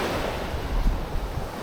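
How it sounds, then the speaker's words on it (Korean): Sea waves wash onto the beach at Baekseok harbour in Yeongdeok in early winter, a dense continuous roar of surf with some wind buffeting on the microphone and no talking. "오, 바닷물."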